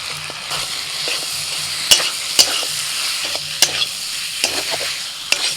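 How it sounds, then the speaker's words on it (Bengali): Fried potatoes are stirred into masala in a hot pan, with a continuous close sizzle punctuated by irregular metallic clanks and scrapes of a spatula against the pan. "মশলার সাথে আলুটাকে দু মিনিট কষিয়ে নিয়ে"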